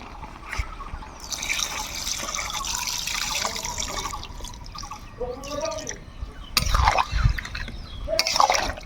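Water poured into a cooking pot of goat tripe and taro stems, making trickling, splashing and gurgling sounds at close range, with brief stirring noises and a faint voice in the background.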